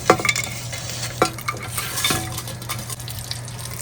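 Whole spices for an Andhra country chicken biryani frying in a pot, including marathi moggu, nutmeg, green and black cardamom and pepper, with a steady sizzle, scraping stirs and occasional clinks of a utensil against metal.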